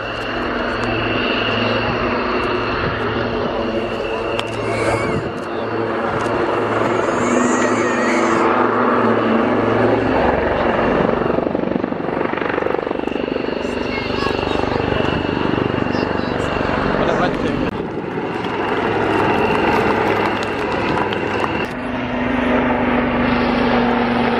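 A Spitfire's propeller engine drones loudly and continuously as it starts its takeoff roll at an air show, its pitch wavering as power shifts, with indistinct voices partly buried under the roar.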